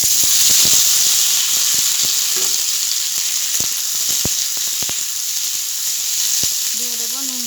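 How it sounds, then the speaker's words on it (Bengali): Young jackfruit pieces fry in hot oil in a wok, giving a steady, loud, close sizzle with scattered crackling pops and a brief squeal of stirring near the end. "কড়াইতে তেল গরম করে নিয়েছি, এবার এঁচড়টা দিয়ে দেব।"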